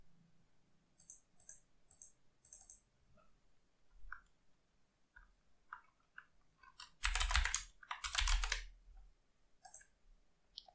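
Computer keyboard typing while a name is entered during network configuration: a quiet, irregular patter of key clicks with a couple of louder bursts of rapid keystrokes partway through.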